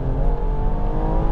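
A Stage 3 Pure800 BMW M240i pulls hard under acceleration, its engine note a loud, steady, rising drone heard from inside the cabin with no speech over it.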